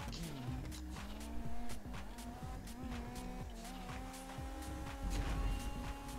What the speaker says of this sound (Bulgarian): Маля, ама тази си е бърза кола.